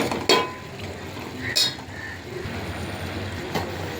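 Cooked vegetables being mashed in a pan for a fishless fish curry, with a few sharp scrapes and knocks against the pan spaced across a soft, steady background.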